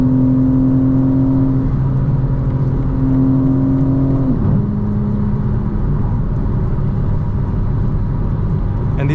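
A 2025 BMW M4 Competition xDrive on Pirelli tires driving at sunset, its engine droning steadily with rising revs, then a gear change and lower rumbling acceleration heard from inside the cabin.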